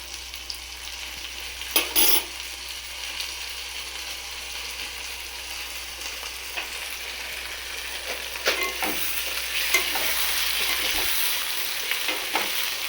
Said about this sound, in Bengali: একটু মিশিয়ে দিই জিনিসটা যাতে পুড়ে না ধরে নিচ থেকে